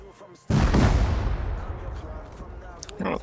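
A C4 charge detonates against a door in the survival game Rust: one loud, close boom that rolls out into a long, rumbling decay, followed by a faint thud near the end.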